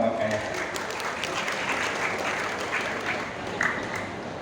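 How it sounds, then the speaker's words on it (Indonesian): An audience applauds at a school farewell thanksgiving ceremony at a junior high school in Situbondo, Indonesia: steady, dense clapping filling the room, holding even throughout with a brief swell near the end. "Tepuk tangan dulu untuk kepala sekolah dan para waka ya."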